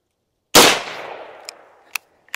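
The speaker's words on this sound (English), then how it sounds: "same Remington 110 grain hollow point out of the 24 inch rifle" One sharp, loud .357 Magnum Remington 110-grain hollow point fired from a 24-inch rifle, a close crack trailing into echoing decay, then a few quick metallic clicks.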